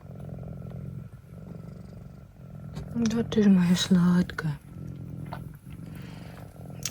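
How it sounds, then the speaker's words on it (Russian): A soft, low purring rumbles steadily close by from a Singapura cat after giving birth, while someone speaks affectionately over it. "уже урчит"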